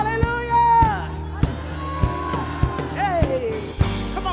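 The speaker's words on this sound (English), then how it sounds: "Let's shout hallelujah." Church congregation shouting together in a loud, ragged collective cry, with sharp claps or beats punctuating the voices over a few seconds.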